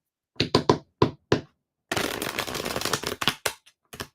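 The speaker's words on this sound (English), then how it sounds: "One more shuffle." Tarot cards shuffled by hand: a handful of crisp separate knocks and taps, then a steady riffling burst of about a second and a half, followed by a few more taps, close and alone.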